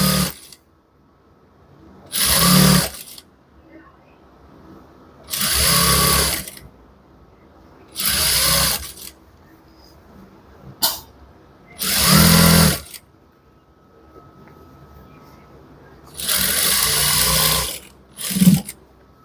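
A sewing machine stitching a shirt runs in several short loud bursts of a second or two, separated by quiet pauses, with no talking over the whirring.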